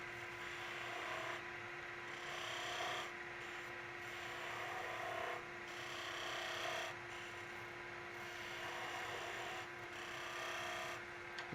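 A skew chisel cuts wood turning on a lathe, making a steady, continuous scraping hiss that swells and eases slightly over a constant motor hum, close and moderately loud throughout.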